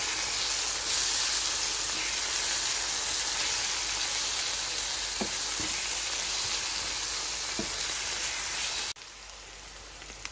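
A spicy biryani mixture stirred in a hot pan gives a steady, loud sizzle and hiss throughout, with a few soft scraping knocks, before the frying noise drops abruptly near the end.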